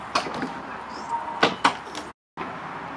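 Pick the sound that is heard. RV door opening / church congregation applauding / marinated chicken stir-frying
RV door opening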